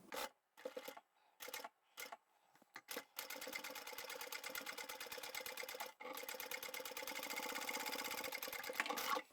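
A sewing machine stitches through the layers of a crossbody sling bag, starting with several short stop-start bursts, then running in a long fast rattling stretch with one brief pause, close by and with no talk.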